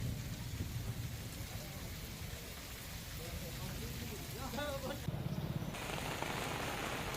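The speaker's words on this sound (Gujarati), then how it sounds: "કેનેડી ગામમાં ભારે પવન ગાજવીજ સાથે વરસાદ વરસી રહ્યો છે" Heavy monsoon rain with strong wind and thunder over Kenedi village in Kalyanpur taluka, Dwarka district, a steady, loud broadband downpour roaring throughout, with faint voices briefly audible in the middle.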